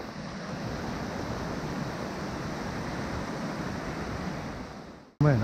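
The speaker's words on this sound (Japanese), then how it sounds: "あ、この大きな滝が。" A large multi-tiered waterfall in the mountains roars as a steady, moderate rush of falling water heard from a distance, continuous for several seconds before a sudden handling bump at the end.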